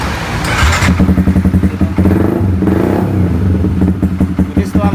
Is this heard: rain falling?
no